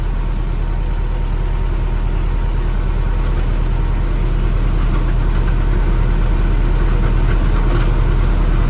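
An Arpal machine's engine runs steadily at 1200 rpm, a loud, close, unbroken mechanical drone with a faint knocking undertone that holds for the whole stretch, with no voices.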